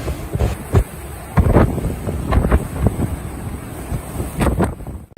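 Strong storm wind in New Zealand roars and buffets the microphone in repeated heavy gusts, with a low rumbling rush throughout and no voices.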